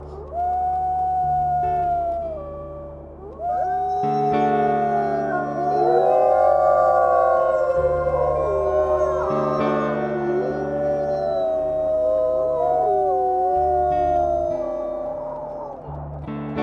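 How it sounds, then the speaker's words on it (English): Wolves in the video game Wolf Quest: Wildflower Legacy howl together in a loud, sustained chorus of overlapping rising and falling tones, with a steady low drone of game music beneath. "let's go ahead and howl"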